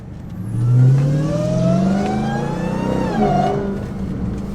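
A 1,000 hp Dodge Demon Charger engine with supercharger on the road, rising through a loud revving pull with a high whine climbing and falling over the engine roar.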